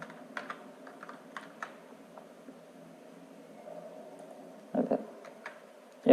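Typing on a computer keyboard while working in Microsoft Word: sparse, fairly quiet clicks with irregular pauses, then a short flurry of louder keystrokes near the end, with no talking.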